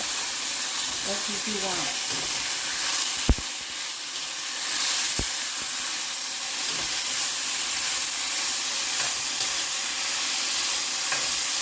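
A stir-fry sears in a hot, heavy pot dusted with cornstarch, giving a loud continuous sizzle with a couple of sharp metallic knocks. A voice speaks briefly over the hiss.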